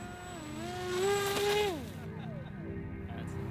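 Small unmanned aerial vehicle, built like a radio-control toy airplane, with its motor buzzing and rising in pitch as it throttles up and climbs, then easing off and fading, a steady nearby drone throughout.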